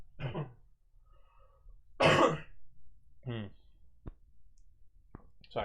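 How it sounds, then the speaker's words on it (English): A few short, separate coughs with pauses between them, plus some faint clicks, fairly close and otherwise quiet. "I'm gonna have to cough a couple of times."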